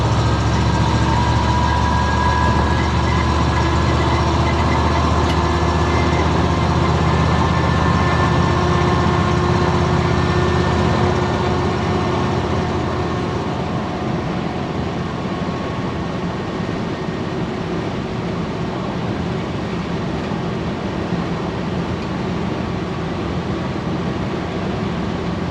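A restored 1968 Chevrolet C10 pickup's engine drones steadily while cruising down the highway at around 50 mph, a continuous low rumble with road and wind noise that eases slightly in loudness partway through, with no talking.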